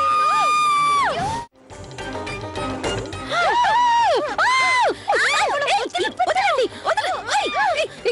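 Children shout and wail loudly in a tense squabble indoors, overlapping high-pitched yells and cries rising and falling in quick bursts, with a brief pause early on.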